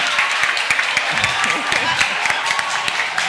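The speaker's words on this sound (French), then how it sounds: "On vous demande d'applaudir les élèves de la NS1, s'il vous plaît" Audience in a school competition hall applauding a group of students, steady dense clapping throughout with voices mixed in underneath.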